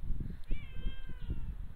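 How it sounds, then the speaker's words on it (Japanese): A single drawn-out cat meow, fairly faint, over low rumbling background noise at Kaminoma railway station beside an elevated line. "猫が鳴き声がしてますね。"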